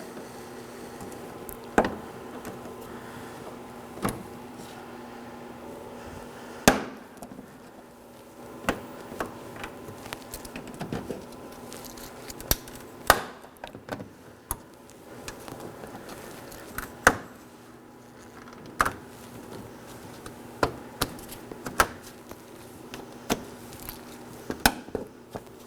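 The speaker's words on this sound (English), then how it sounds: "I'll be using a trim tool to remove them." A plastic trim tool pops push-pin clips out of the bumper cover trim on a 2013-2019 Nissan Sentra, giving a series of sharp, close clicks and snaps at irregular intervals over a quiet background.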